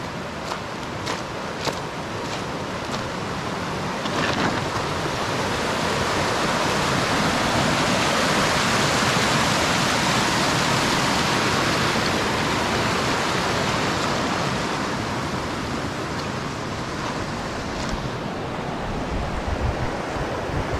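A river rushing near a log jam on the Middle Fork Salmon at Boundary Creek, a steady, loud broadband roar of flowing water that fills the whole stretch without pause.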